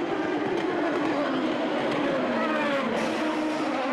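A 2008 Chip Ganassi Racing Dallara IndyCar at the Australian street race roars past at high revs, a loud continuous engine drone with a slowly falling pitch, faint commentary underneath.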